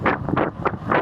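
Strong wind buffeting a microphone while cycling a long ride, loud rushing gusts surging and easing in quick pulses, close and alone.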